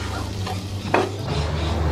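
Onions with brown sugar are stirred as they sizzle in a pan: a steady frying hiss with a utensil scraping and clicking against the pan.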